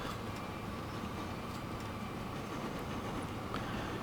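A steam-era locomotive train running in the Transport Fever simulation game, a continuous steady rumble and hum with faint clicks on top, even in level from start to finish, with no voices.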